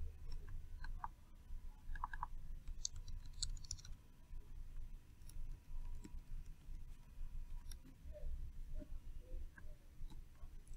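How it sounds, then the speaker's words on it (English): Faint mouse clicks and light keyboard typing at a computer, a few scattered sharp ticks and short clusters of taps over a low steady hum, with no talking. "I'm going to double click on the name and type in Wonder"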